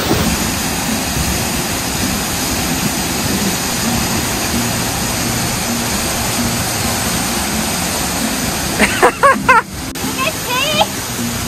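Waterfall in Wales roaring steadily and loud from close by, a continuous broad rush of falling water throughout, with brief voices speaking over it near the end.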